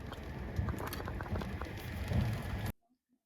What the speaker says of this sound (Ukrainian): почався така злива, то вирішили трошки перечекати під таким е, навісом